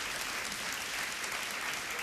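A studio audience on an evening television show claps in a steady, dense wash of applause that holds at an even, fairly soft level throughout, with no talking.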